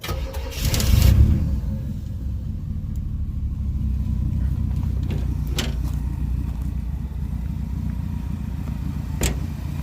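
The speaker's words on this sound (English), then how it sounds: "Let's fire her up real quick." A car engine cranks and catches with a loud burst of low rumble, then settles into a steady running idle through a single side-exit tailpipe, with a few faint clicks and taps around it and no talking.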